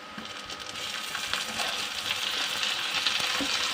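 Tomatoes go into a pan of light-brown fried onions for a spicy fish dish, setting off a steady, loud crackling sizzle that continues throughout with no talking.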